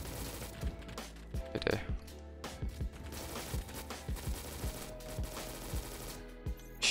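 Gunfire in the video game Recoil, a series of quick close shots in short irregular bursts over a busy game soundscape at modest volume, with occasional sharper cracks.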